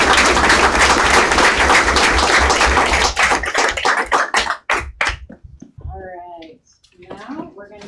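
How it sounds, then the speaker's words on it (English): School board meeting audience applauding, loud dense clapping for about three seconds that thins into scattered claps and fades out, followed by an adult speaking. "I applaud you"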